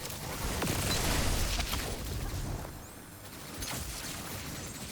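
Turret gunfire in a Warlock Arc build in a shooter video game, a dense rattle of shots and blasts that swells, dips around the middle and picks up again, loud and busy with no talking.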